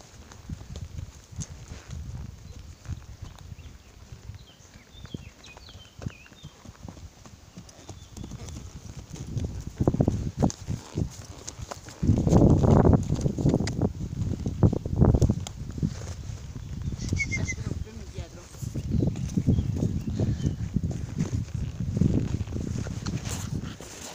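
A horse walks through a stable, its hooves clip-clopping steadily and fairly close, growing louder toward the middle, with faint rustling and occasional background voices.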